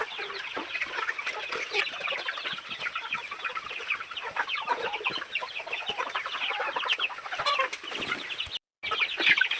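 Free-range chickens cluck and chatter continuously on a farm during the morning feeding routine, many birds close together with occasional wing flaps, loud and steady with a brief dropout near the end.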